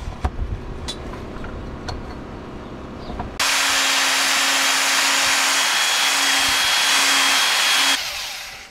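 A Makita belt sander running with the grain on wood for a Celtic Viking stargazer chair, preceded by a few knocks and handling clatter, then a loud, steady, close whine and abrasive rasp that holds for several seconds before spinning down.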